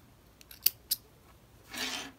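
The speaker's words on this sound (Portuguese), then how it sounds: "Vou cortar." Scissors snip knitting yarn up close: two quick crisp clicks followed by a brief soft rustle, faint and alone.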